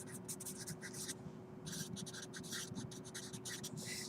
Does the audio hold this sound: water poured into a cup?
no